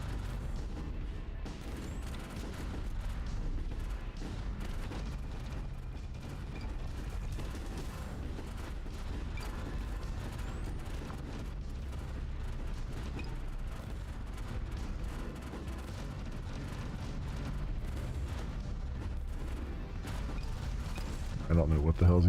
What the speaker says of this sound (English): there's all this crap just exploding around